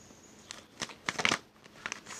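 Tarot cards are shuffled in a few quick, soft riffling and flicking bursts, close and quiet, with short pauses between them.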